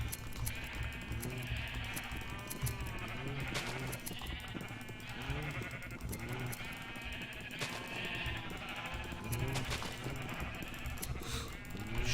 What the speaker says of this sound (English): Shearing the sheep, shearing the sheep.